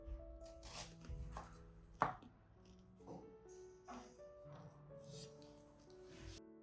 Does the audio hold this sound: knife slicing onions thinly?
yes